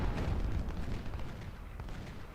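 A volley of gunfire from skirmishers in Ultimate General: Civil War, dense crackling rumbling musketry blending into a booming roll that fades slightly, no talk.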